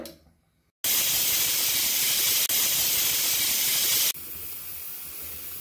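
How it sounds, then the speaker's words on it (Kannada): Pressure cooker of sprouted horse gram on high flame releases a loud, continuous rush of hissing steam that starts abruptly after a brief quiet moment, holds steady for several seconds, then drops to a softer ongoing hiss, with no voices. "ಈಗ ಕುಕ್ಕರ್ ಲಿಡ್ಡನ್ನು ಕ್ಲೋಸ್ ಮಾಡಿಬಿಟ್ಟು ಹೈ ಫ್ಲೇಮ್ ಇಟ್ಟು 2 ವಿಷಲ್ ಆಗಲಿಕ್ಕೆ ಬಿಡೋಣ"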